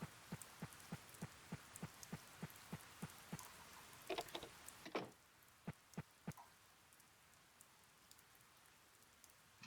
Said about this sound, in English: Doesn't it stink when it rains?